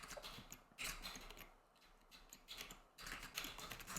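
Quiet clicking keystrokes on a computer keyboard come in short bursts with brief pauses while a command is typed, close and faint, no speech.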